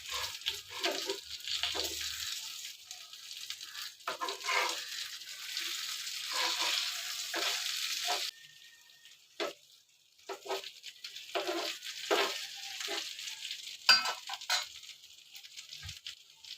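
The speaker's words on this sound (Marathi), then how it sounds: "एका साईडने मच्छी भाजली आहे, आता मी परतून घेते." Fish sizzling as it pan-fries in oil, a steady hiss that breaks off briefly when the pieces are flipped, then picks up again with short scraping knocks.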